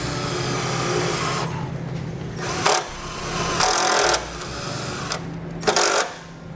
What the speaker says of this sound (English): use a self-tapping screw to ground it to the frame right there.